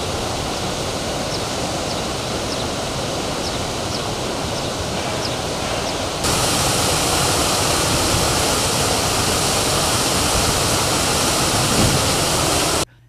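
The polluted Ergene River flows in a dense, steady rushing wash of water that grows louder partway through and holds constant until an abrupt cutoff.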